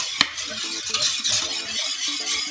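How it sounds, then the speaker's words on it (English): Cornmeal porridge being stirred in a pot, Jamaican style, with steady scraping and swishing strokes close up, a sharp clink near the start, and a faint sizzle underneath; no voices. "So I'm just mixing it, make sure that it's smooth."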